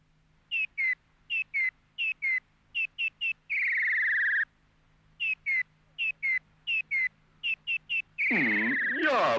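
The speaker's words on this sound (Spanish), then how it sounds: "El rey estuvo escuchando el canto del pájaro mecánico hasta muy tarde la noche pasada." A mechanical bird sings in a Christmas stage play: crisp paired chirps in a steady rhythm, broken by sustained trilled whistles, ending in a louder, wavering warble. No one speaks.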